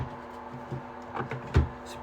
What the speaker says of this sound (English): Put the lid back on.